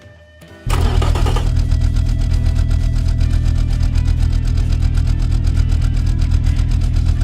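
A turbocharged inline-six with a big turbo and carbon fiber intake manifold in the Automation game cranks briefly, fires up abruptly, then settles into a loud, steady, buzzing idle with no talking.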